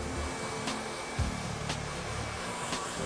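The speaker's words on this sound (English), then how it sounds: "you want to take your hair dryer and you want to dry that in for about say 5 minutes" A hair dryer blows steadily while drying wavy hair, a continuous close whooshing hum with faint rustling and a brief thump partway through, with no talk.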